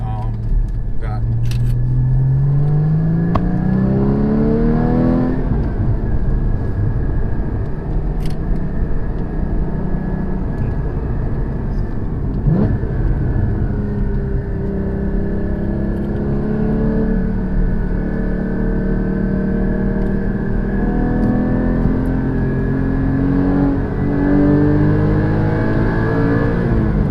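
A 2016 Porsche GT4 accelerating hard through the gears, its engine note rising in repeated sweeps with drops at each shift, heard from inside the car under steady cabin rumble.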